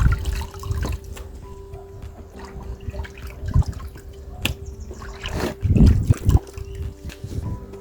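Water added to soaked paper pulp for grinding in a mixer, heard as splashing, trickling and pouring with a few louder gushes toward the end, close by and without speech.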